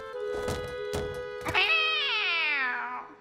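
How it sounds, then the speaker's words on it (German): A mother cat in a children's cartoon lets out one long, loud, drawn-out meow after a few soft thumps, with no talking. "Die Mutter der Kätzchen."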